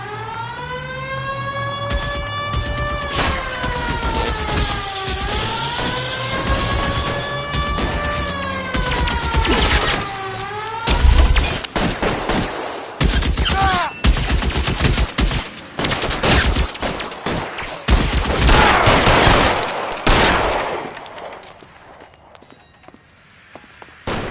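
A police shootout in L.A. Noire erupts with dense bursts of gunfire, rapid loud shots and volleys hammering on over a wailing siren and car engine noise, then thinning out near the end.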